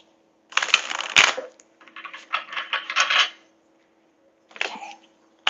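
Romance angels oracle cards being shuffled by hand, close and crisp, in two bursts of riffling flutter followed by a shorter final shuffle, with quiet gaps between and no talk.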